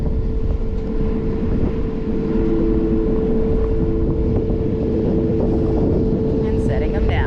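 A skid steer loader working in a hay yard while carrying hay bales, its engine droning steadily and loud throughout, with wind buffeting the microphone.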